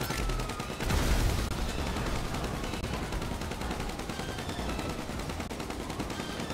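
Dense, continuous gunfire in GTA V during a fight around a tank, with rapid crackling shots layered over a heavier boom near the start, steady and loud throughout.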